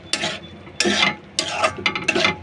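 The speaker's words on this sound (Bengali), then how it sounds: "দিয়ে আমি আবার ভালো মতো নাড়তে থাকবো কিছুক্ষণ" Green peas being stirred in a pan, a few close bursts of scraping and rattling as the spoon pushes the peas around, separated by short pauses.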